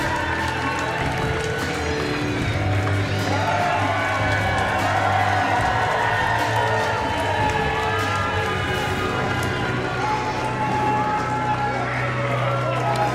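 Wrestling crowd at an AML event cheering Brock Anderson's win, a dense, continuous roar of shouts and whoops filling the hall, steady and loud throughout with scattered higher voices rising above the mass.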